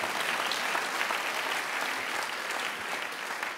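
An audience at a cabaret show applauds, a dense, continuous patter of many hands clapping at a steady level throughout.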